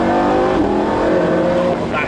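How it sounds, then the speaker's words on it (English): A McLaren 570S accelerates hard with a gear change, its engine roaring loud and close throughout, with a brief shift in pitch near the end; a person speaks over the engine noise. "That gear change is beautiful."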